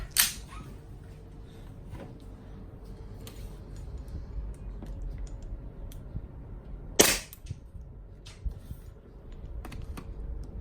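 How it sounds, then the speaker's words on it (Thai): A custom AW HX2301 airsoft gas pistol running on strong Dyno gas lets off two sharp, snappy pops about seven seconds apart. Between the shots, faint clicks and handling noises sit over a quiet background. "แก๊สแรงแก๊สไดโน โอเคไป พร้อมยิงไป"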